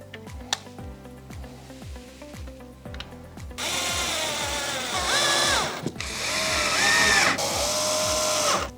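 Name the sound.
power screwdriver screwing metal drawer part onto kitchen drawer front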